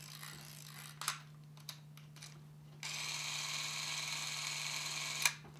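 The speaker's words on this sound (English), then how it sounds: "This is an 8mm film camera." A wind-up 8mm film camera with no batteries runs with a faint, steady mechanical whir and clicks. A low constant hum sits underneath, with a few sharp clicks before the motor settles into a continuous buzz.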